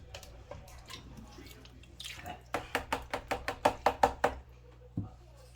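Gold paydirt tipped into a panning pan gives a quick run of about nine sharp, gritty knocks close by, followed by one last thud, with no talking.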